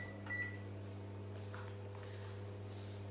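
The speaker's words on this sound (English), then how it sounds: "और फिर इसको हम for the next 2 minutes फिर से microwave करेंगे." A kitchen microwave oven hums steadily and close by as it heats mug dhokla with a quarter cup of water added, its low drone constant throughout, with a brief faint clink near the start.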